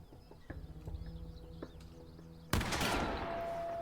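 Shotgun blast in the horror game The Quarry: a single loud, close boom cuts in sharply after a few quieter thuds and ambient game sounds, then rings out.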